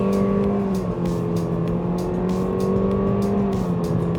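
A Honda Civic FE5 with a CVT accelerates hard from 0 to 100 km/h with the air conditioning off, heard from inside the cabin. The engine drone is steady and loud, its pitch rising gradually, with no talking.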